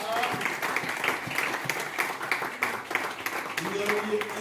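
Church congregation applauding during a Sunday worship service, a dense continuous wash of clapping that swells and fades over several seconds, with voices mixed in underneath.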